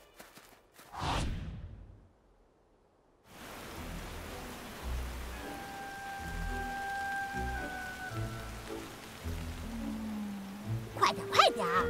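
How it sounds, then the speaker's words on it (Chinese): Steady rain hiss falls in an animated cartoon garden scene. It sets in after a brief burst and a moment of silence, then continues under voices and light musical tones. "现在就要下雨了，正好给铁线莲浇浇水"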